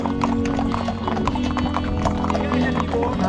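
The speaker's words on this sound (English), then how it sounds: "消防馬車だそうです。" Horses pulling a fire brigade carriage on a riding tour in Europe, quick overlapping clip-clop of hooves close by with a neigh, while people talk over them.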